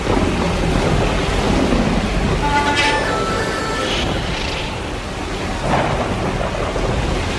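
Heavy thunderstorm in the video game Death Stranding, with loud continuous rain and deep rolling thunder rumbling throughout, a few brighter crackles rising above the steady downpour.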